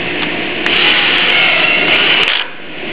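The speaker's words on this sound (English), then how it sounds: "we're going to screw the top screw into place." A power driver sinks a screw into a rafter of a Sturdi-Built greenhouse roof section, giving a loud, close, steady whirring drone for about two seconds before winding down.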